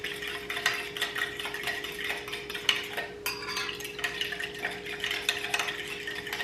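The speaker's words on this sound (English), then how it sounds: "stir it together" A spoon stirs yeast into a cup of warm water for homemade bread, giving a steady run of soft clinks and scraping swirls against the container, close and fairly quiet, with no talking.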